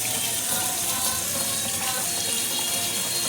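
Water runs steadily from a kitchen tap into a sink during washing, a close, continuous gushing stream without a break.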